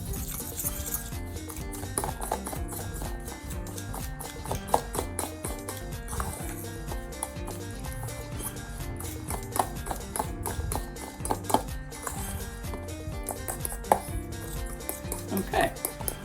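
Graham cracker crumbs, sugar and melted butter are mixed in a bowl, a steady rapid clicking and tapping of a utensil against the bowl repeating throughout, close and moderately quiet.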